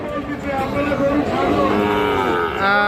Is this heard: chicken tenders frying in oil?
no